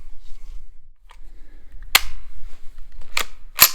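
Rifle shots at an outdoor range while zeroing a scope: three sharp, loud reports spaced about a second apart, each a crisp crack with a brief tail, over near-silent background.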